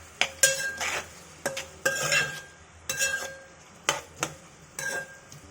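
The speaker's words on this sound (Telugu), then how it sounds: "మొత్తం ఉప్పు కలిసేట్లు కలిపి" A spoon stirs potato tomato curry with salt in a pan: rhythmic scraping strokes with clinks against the metal, about six bursts with pauses between, close and clear over a faint sizzle, no talking.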